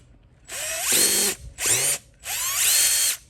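A power drill whines through three loud bursts, backing out a tiny 2 mm screw from a steering link on a Traxxas X-Maxx RC truck, with short pauses between bursts and a ratcheting edge as the bit spins.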